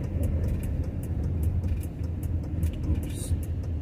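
Cars in traffic on a rainy morning make a steady low engine rumble close by, with a person talking over it.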